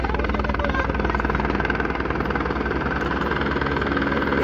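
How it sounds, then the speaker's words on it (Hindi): A helicopter arriving at a landing spot on the Katra pilgrimage route in Jammu and Kashmir, its engine and rotor producing a steady, loud, continuous drone with fast rhythmic rotor chop throughout. "तो दोस्तों यहाँ पर जो है हेलीकॉप्टर आ चुका है"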